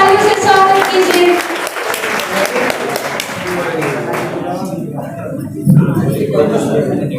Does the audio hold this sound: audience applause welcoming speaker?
yes